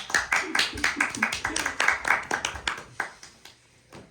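A small audience claps in quick, uneven rhythm for about three seconds before the claps thin out and stop, with some voices mixed in.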